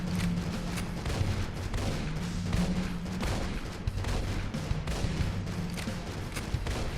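Defense turrets in the sci-fi game Astroswarm fire in a steady stream of rapid, crackling shots, dense and continuous throughout, mixed with a low hum of game sound.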